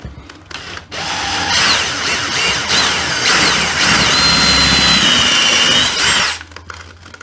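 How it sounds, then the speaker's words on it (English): A power drill whirs steadily for about five seconds, driving a screw into a wall for a baseboard register, its motor pitch rising and falling, close and loud, with no talking. "Stand my drill up as straight as possible."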